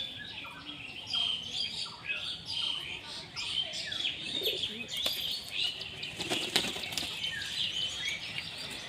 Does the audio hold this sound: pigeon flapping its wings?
yes